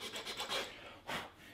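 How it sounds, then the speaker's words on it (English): A heavy wood file rasping a flintlock rifle butt plate, close rhythmic scraping strokes, several quick rasps followed by a longer pause and another stroke. "I do most of this work with these heavy wood files"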